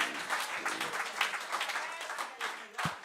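A church congregation at a prayer service applauds and cheers in a dense, steady wash of clapping and voices throughout.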